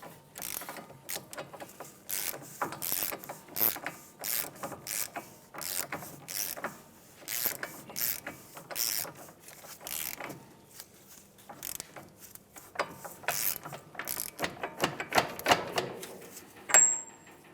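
A ratchet snugs up the wheel hub nut on a 2015-2019 Hyundai Sonata held in the air, giving repeated quick clicking bursts in a steady rhythm, close and moderately loud, with short pauses between runs.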